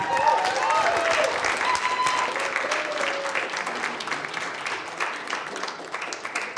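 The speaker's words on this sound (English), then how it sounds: "So please bring them up with a huge round of applause and enjoy." An audience at a spiritual gathering applauds to welcome a musician onstage, sustained dense clapping that holds steady and slowly thins toward the end, with some voices mixed in.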